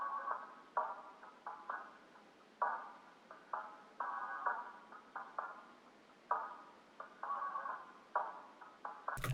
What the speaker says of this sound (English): Next I had this percussion loop that I just literally downsampled by 1K.